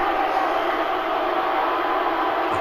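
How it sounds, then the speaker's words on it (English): An arena crowd in the wrestling video game WWE 2K17 roars and cheers with a steady, dense wash of noise that holds evenly throughout. "Crowd."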